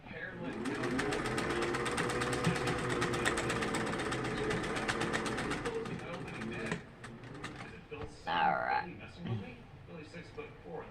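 A sewing machine stitches down Victorian fan pieces, running in a steady rapid mechanical whir for several seconds before stopping, followed by softer handling sounds.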